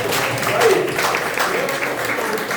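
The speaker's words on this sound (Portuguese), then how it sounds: "Palmas, por favor. Palmas." Audience at a family-themed talk applauding, a steady wash of clapping from a crowd mixed with murmuring voices throughout.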